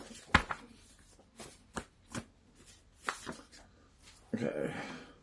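A few sharp riffling bursts of cards being shuffled, spaced apart, with a brief rustle at the end; close and fairly quiet.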